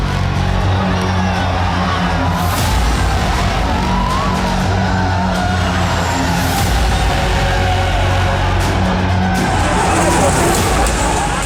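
Tractors race and perform stunts on Delhi roads during a farmers' march that turned violent: a continuous loud roar of engines and traffic with crowd noise and shouting voices mixed in throughout.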